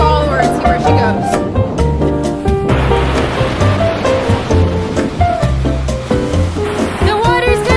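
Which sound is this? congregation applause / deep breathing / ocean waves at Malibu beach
ocean waves at Malibu beach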